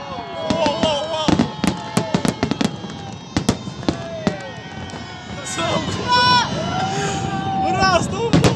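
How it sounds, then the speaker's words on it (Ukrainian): A fireworks salute for Navy Day in Stavropol bursts in sharp, loud bangs, some in quick clusters, with crackling in between and excited voices of onlookers talking through the display. "Прям настоящий салют."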